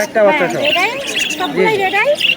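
Pet bird chirps and tweets, including lutino birds with chicks, rise and fall in quick bursts, fairly close and lively, with a busy market murmur around them at the Mirpur bird market in Dhaka.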